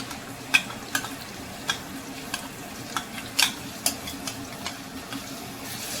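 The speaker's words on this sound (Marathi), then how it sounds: "आता याला तेलामध्ये फ्राय होऊ देऊ." A paste of garlic, ginger, tomato and onion fries in hot oil for palak paneer, giving a soft, continuous sputter and sizzle with scattered sharp pops and light clicks.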